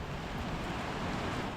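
Heavy surf surges against the shore at Dinahican, Infanta, Quezon during a signal no. 5 tropical storm, a loud, constant roar of crashing waves mixed with wind, with no break across the short stretch.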